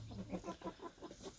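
Young laying hens of a hybrid layer breed, about 21 weeks old, cluck softly in a farm flock, with a steady run of short repeated clucks at moderate distance.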